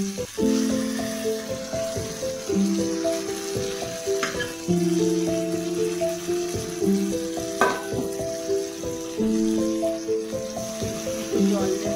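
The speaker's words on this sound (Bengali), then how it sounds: "এবার এর মধ্যেই পোস্ত বাটাটা দিয়ে দেবো।" Nenua (sponge gourd) frying in a pan as poppy seed paste is added, a loud steady sizzle with scraping stirs and clinks of a utensil against the pan, while background music plays.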